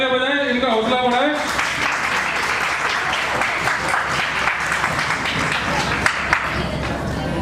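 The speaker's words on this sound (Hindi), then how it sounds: "जोरदार तालियां बजाएं, इनका हौसला बढ़ाएं।" An audience at an Ambedkar Jayanti event breaks into loud, sustained applause, dense clapping filling the room after a voice speaks briefly at the start.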